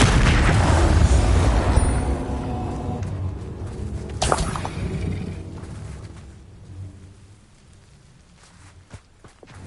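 Combat spell effects in Hogwarts Legacy: heavy booming blasts and whooshing impacts with a dense low rumble, a sharp burst near the middle, then fading into quieter ambience and scattered thuds.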